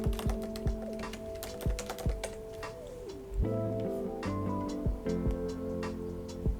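Keys clatter on a MacBook keyboard in quick, uneven bursts of close, crisp clicks, fairly quiet, with no one speaking.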